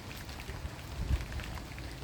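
Rain falls steadily in a garden, a continuous soft hiss and patter of drops on leaves and ground, close and even, with no voices.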